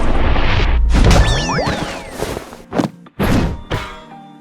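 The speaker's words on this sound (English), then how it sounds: "Here is her first skill animation" A character's first skill animation in the video game Outerplane: a heavy thudding impact, bright metallic slashing swooshes, then a few sharp hits and crashes in quick succession, loud and punchy with no talk.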